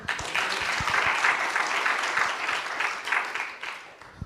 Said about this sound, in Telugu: చప్పట్లు కొట్టగలరమ్మా